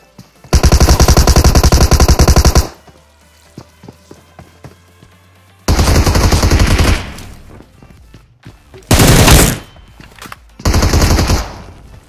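Loud automatic gunfire in a shooter video game on an ancient temple island map comes in four long rapid bursts, separated by quieter gaps with faint scattered sounds and no talking.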